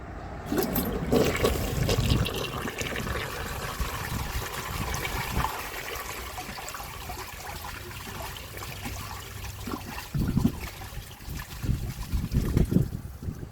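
A 1981 Eljer Murray toilet is flushed with a washcloth and a grocery bag in the bowl, a loud, close rush of swirling water that holds steady, then turns gurgly and splashy as the tank refills and trickles.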